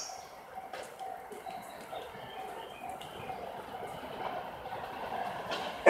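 A 15-car Rapid Rabbit commuter train with a Green car arrives at Kuki station platform on the Utsunomiya Line. Its low rolling rumble builds steadily, with faint bird chirps and platform ambience around it.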